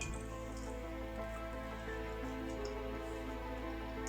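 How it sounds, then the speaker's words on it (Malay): Rain falling, a faint steady hiss with soft scattered drips, low-level and unbroken for a few seconds, no voices. "Di sini hari sudah mulai hujan"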